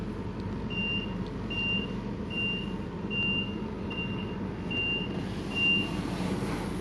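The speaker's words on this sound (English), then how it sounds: "Should an incident be detected in your carriage, the following alarm will sound." An incident alarm in a shuttle train carriage beeps in a regular series of about seven evenly spaced high electronic tones over steady rumbling carriage noise.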